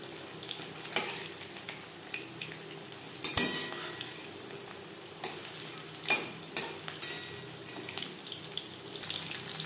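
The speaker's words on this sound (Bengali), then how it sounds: "উল্টে পাল্টে প্রথম ব্যাচের পাকোড়া ভাজা হয়ে গেছে" Pakoras fry in hot oil with a quiet, steady sizzle, broken by intermittent clinks and stirring strokes as the batch is turned.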